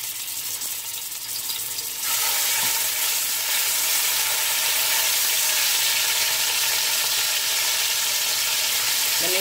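Chicken frying in oil in a frying pan, a loud steady sizzle that bursts in after a quieter start and holds evenly with no talking.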